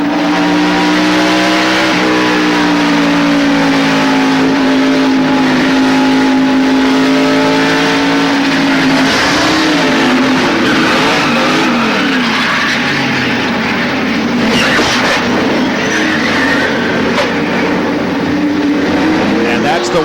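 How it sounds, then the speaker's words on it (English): A NASCAR stock car engine heard from the in-car camera at the 1993 Bud 500 drones loud and close with steady high revs, then shifts and wavers as the car slows, with a commentator talking over it. "From Jeff Gordon's in-car camera."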